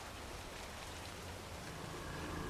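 Steady rain falls in the zombie survival video game The Walking Dead: Saints & Sinners, a continuous even hiss of drops with a soft low rumble underneath, no voices.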